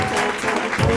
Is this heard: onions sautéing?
no